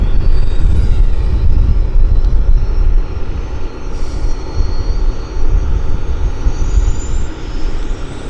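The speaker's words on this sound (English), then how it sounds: "here comes our lander for United Airlines" United Airlines plane coming in to land at Vancouver Airport, a loud sustained jet engine roar with a broad rumbling wash that swells and shifts as it passes, no voices.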